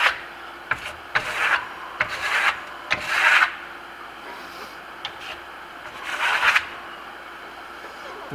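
A steel trowel rasps across a wall while smoothing a Bernini or Grasello plaster finish, heard as repeated rhythmic scraping strokes, some short and some longer, fairly close and clear, with no talk.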